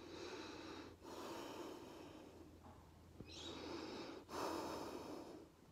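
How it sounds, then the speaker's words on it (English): A person breathes quietly through the nose, with several soft inhales and exhales at an even pace. The breaths are close and faint, with no talking. "I'm just going to show you my now normal nasal breathing."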